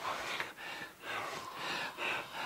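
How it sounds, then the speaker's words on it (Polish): A man takes several slow, deep breaths in and out, each a soft, airy rush of breath heard close and alone. "niech się pan uspokoi i weźmie głęboki oddech"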